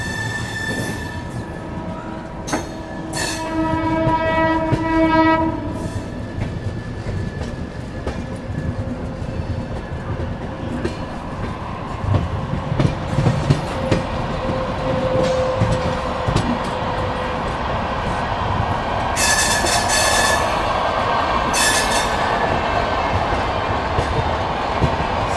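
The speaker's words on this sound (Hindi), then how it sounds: "AC 3 tier कोचेस के साथ हमारी ट्रेन बढ़ रही है अपने सफर में" Arunachal AC Express with AC 3-tier coaches running on rails, heard as a steady loud rumble and clatter of wheels with brief squealing and some high tonal whines, lasting throughout without talk.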